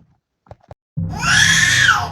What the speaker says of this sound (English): When Tom Foley heard that baby scream, a heavy blow hit him like a ton of bricks.